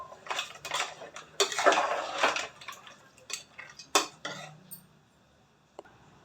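A spoon scrapes and clanks against a metal pot while mutton sambar masala is mixed with water, a run of close, irregular strokes that thins out toward the end, with no voices.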